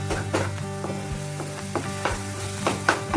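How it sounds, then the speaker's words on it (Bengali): Ground spices for paneer tikka masala sautéing with a little water in a pan, a steady close sizzle with occasional soft stirring scrapes and clinks over the full stretch, no voices. "আমিও ভালো করে কষিয়ে নিচ্ছি।"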